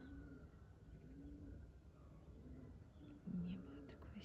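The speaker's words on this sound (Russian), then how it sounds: "Только звуки голубей и петухов." Soft pigeon coos repeat faintly in the distance over a low outdoor rumble, with quiet murmuring voices.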